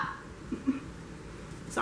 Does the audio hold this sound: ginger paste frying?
no